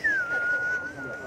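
A man whistles with his lips still, one clear sustained tone that starts slightly higher and glides down, then holds steady for about a second, heard close alongside faint background voices on a trip in Pakistan's northern areas.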